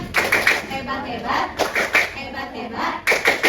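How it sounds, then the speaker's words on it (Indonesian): A fifth-grade class of schoolchildren claps together in their classroom, with several quick rhythmic bursts of hand claps close by and voices chanting along between them. "Mari kita beri tepuk hebat"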